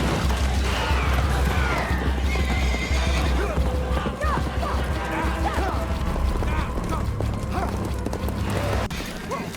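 Horses neigh and hooves clop in a dense, noisy scene while voices talk over them throughout and a low rumble runs steadily underneath.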